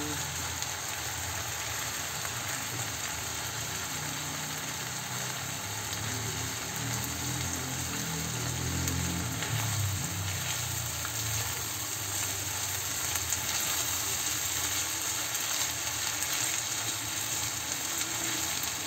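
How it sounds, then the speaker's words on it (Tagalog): Corn and corned beef fry in a pan while being stirred, giving a steady close sizzle with soft scraping and clatter of the stirring throughout, no talking. "Haluin siya."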